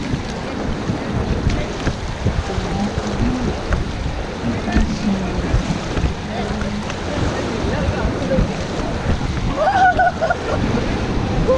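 Raft on the Ganges at Rishikesh, with water sloshing and paddle strokes under steady wind noise and shouted group commands throughout, the splashing continuous and close.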